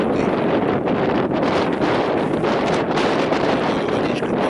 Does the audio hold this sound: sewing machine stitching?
no